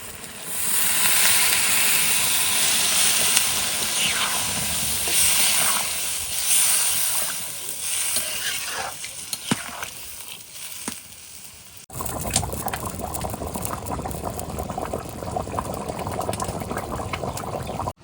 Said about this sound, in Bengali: মাংসটা কষানো হয়ে গেছে এবার জলটা দিচ্ছি